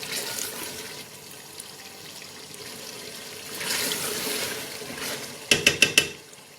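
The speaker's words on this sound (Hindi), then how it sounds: "और बस इसे चमचा चलाएंगे और चूल्हा बंद कर देंगे।" A spoon stirs mutton korma in a cooking pot on the stove, a steady wet scraping that builds midway, followed by a quick run of four sharp clinks of metal against the pot rim near the end.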